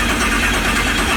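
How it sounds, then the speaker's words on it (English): A race motor in an El Camino cranks and catches, a dense, loud, close rumble with no pause and no voices. "We're gonna hook the starter back up and see if she runs now."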